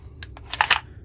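Charging handle on a VFC LAR gas blowback airsoft rifle, an FN FAL replica, worked by hand: a few quick, sharp metallic clicks and a short rattling slide, heard up close and alone within about a second.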